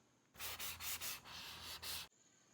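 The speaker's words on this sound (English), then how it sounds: "Go over this with a sanding tool like this, the sanding block." Close, rhythmic scratchy strokes of a sanding block rubbing over a wooden tai chi stick, several back-and-forth passes in quick succession, then stopping.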